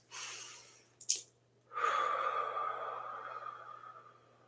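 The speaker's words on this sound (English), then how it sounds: "let's just all take a couple of deep breaths" A person takes audible deep breaths during a Reiki healing session: a soft inhale, a sharp brief gasp, then a longer, steady, airy exhale, all close and quiet with no talking.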